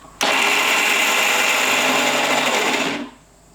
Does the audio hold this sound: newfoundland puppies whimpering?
no